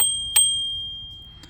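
The bell on a Segway Ninebot E3 electric scooter gives one bright, close ding that rings on and slowly fades, with no other sound around it.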